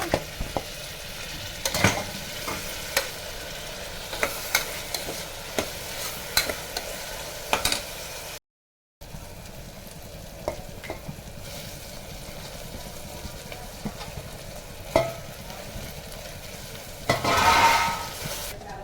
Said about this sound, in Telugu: ఇప్పుడు ఇందులో టమాటాలు వేసేయండి ఉల్లిపాయలు వేగాక